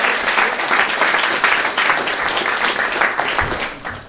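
A comedy show audience applauds with a dense, continuous wash of clapping that swells and holds, then fades slightly at the end.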